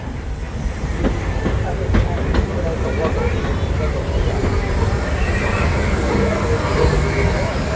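A Walt Disney World Magic Kingdom steam train rolls along in a loud, steady rumble with occasional clacks and hiss, under a Spanish-language safety announcement.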